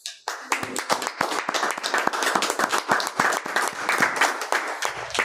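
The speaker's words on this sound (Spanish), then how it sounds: "Vamos a darle un aplauso al Señor, ¿no?" A church congregation applauds during a Spanish-language service, with many hands clapping loudly in a brisk, uneven burst that builds quickly and then tapers off at the end.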